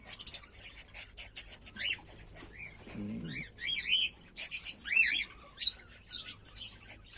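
Cockatiel parents feeding their chicks: a steady run of rising squawks and chirps, some of them raspy, comes in bursts close by, with a soft scuffle partway through and no talking.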